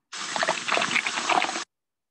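An egg drops into a container of water, giving a short splashy, gurgling burst of liquid lasting about a second and a half before falling silent.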